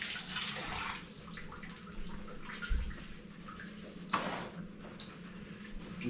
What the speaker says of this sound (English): Wash my hands quick.